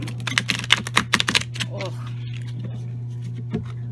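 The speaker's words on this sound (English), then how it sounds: "So before I go, let's shuffle them." Glossy, rigid tarot cards with good card stock are shuffled in a quick burst of crisp riffling slaps and flutters, then quieter handling sounds, with a steady low hum underneath and a brief spoken word.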